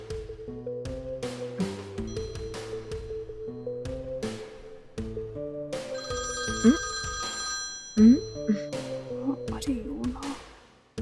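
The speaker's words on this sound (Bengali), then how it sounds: "আরে কে ফোন করছে?" A telephone rings with a repeating melodic tone pattern that carries on for about eleven seconds, and voices speak over it partway through.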